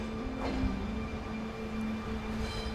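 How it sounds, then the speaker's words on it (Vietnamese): A train at Vladivostok railway station in Russia's far east, with a steady rumbling of rolling carriages and a sustained mechanical hum, close and continuous without any voices. "Đây là ga xe lửa Vladivostok ở vùng viễn đông nước Nga, nơi Nguyễn Ái Quốc"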